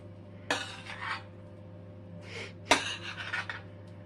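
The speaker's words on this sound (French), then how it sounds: "Alors, voilà, on étale les épinards." Cooked spinach being spread in a baking dish, with a few soft metallic scrapes and clinks of a utensil against the dish, quiet and close, with no talking.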